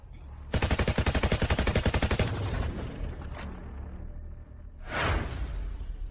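A rapid burst of automatic gunfire, loud and close, rattling for about two seconds, followed by a quieter echoing tail and one more sharp blast.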